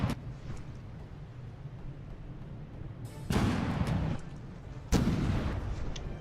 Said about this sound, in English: Reiter firing off the first shells.